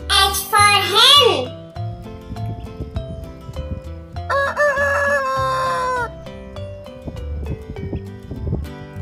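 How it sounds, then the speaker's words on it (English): A rooster crows loudly at the start over bouncy music, then a voice joins the steady rhythmic backing of a phonics alphabet song. "H for hen."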